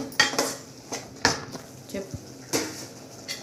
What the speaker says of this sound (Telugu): సో ఇవన్నీ వేసుకొని బాగా నీట్గా కలిపేసుకుందాం అండి